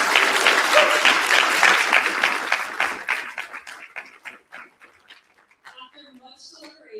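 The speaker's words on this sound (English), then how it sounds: "one more huge round of applause to all of our future entrepreneurs" Enthusiastic applause at a youth entrepreneur camp pitch event, dense clapping for about three seconds that thins into scattered claps and fades, with faint voices stirring at the end.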